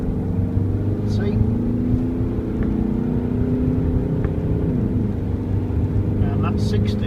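A 2017 Mercedes-Benz Vito Tourer 116CDI diesel van pulls hard from 30 to 60, its engine drone steady and building under constant road and wind roar, heard from inside the cabin.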